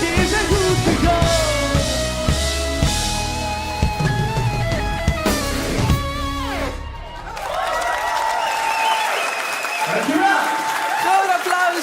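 An audience at the Limburg pop awards show cheers, whoops and claps for a band. Loud band music plays until it cuts off near seven seconds, then a lively crowd with shouting voices takes over.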